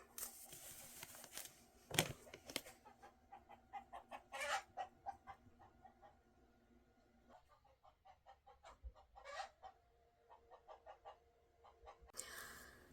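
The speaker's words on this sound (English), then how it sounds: "my chickens started making noise, so I checked on them." Chickens cluck in short bursts, with a few louder squawks scattered among the clucking, fairly close by.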